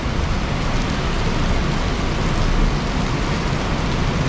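Steady, heavy rain pours down during a thunderstorm, a dense and unbroken hiss close by that holds loud and even throughout, with no voices.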